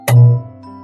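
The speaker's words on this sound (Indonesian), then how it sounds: "Ketika panah mengenai sasaran, suara lonceng berbunyi" A single bell strikes as an arrow hits the target in traditional Javanese jemparingan archery. It gives one sharp, close ding that rings on with a sustained, fading tone.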